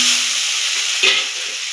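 Chopped onion fries over medium heat in a pan with cumin for a Bengali potato and egg fritter dish, giving a dense, close, continuous sizzle and a brief stirring scrape midway.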